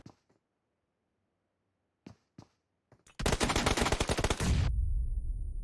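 Upgraded DP light machine gun in PUBG Mobile. A few scattered clicks and pops lead into a loud, rapid burst of automatic fire lasting over a second, followed by a low rumble.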